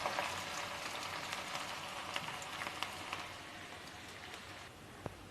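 Onions frying over a high flame for haleem, a continuous crackling sizzle with scattered sharp pops that eases slightly toward the end, with no voices.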